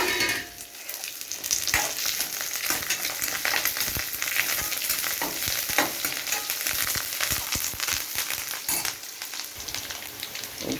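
Curry leaves and dried red chillies fry in hot oil, giving a steady, loud, crackling sizzle with sharp pops throughout and no voices.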